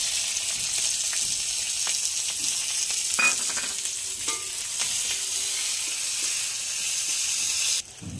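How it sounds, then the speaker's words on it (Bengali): Onion and garlic fry in a pan, an even close sizzle with occasional clicks of stirring and a brief clatter near the end, no one speaking. "ওই তো পেঁয়াজ রসুন তো ভাজা হয়ে গেছে"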